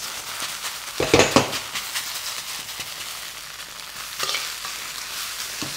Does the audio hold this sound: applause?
no